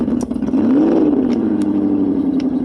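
A BMW 740iL with a fuel leak revs its engine close by, pitch climbing briefly and settling back to a steady, loud hum with light clatter and no speech.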